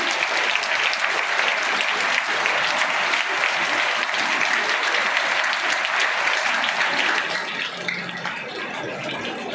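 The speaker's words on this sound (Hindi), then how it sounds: "इनके लिए भी ताली बजाएंगे।" Audience applause at a school Teacher's Day event at St Mary, a dense, steady clapping crowd filling the room, thinning slightly near the end.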